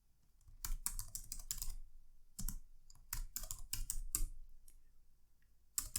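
Quick bursts of computer keyboard keystrokes, close and crisp, with short gaps between clusters of typing and no talking.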